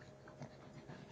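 A heeler boxer mix puppy and a pug panting as they play near water, quick rhythmic close breaths over a low hiss of background noise.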